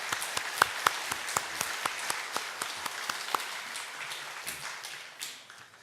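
A church congregation claps in welcome during a worship service, scattered sharp hand claps at moderate distance that thin out and fade over several seconds, with no talking.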